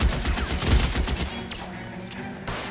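Gunfire in a shooting scene from the video game L.A. Noire: a rapid cluster of sharp, loud shots crackles in quick succession, then thins into a few scattered reports before a final crack near the end.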